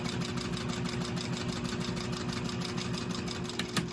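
A Sailrite 111 sewing machine runs a line of topstitching, its needle clattering in a fast, even rhythm over a steady motor hum, with a faint click near the end.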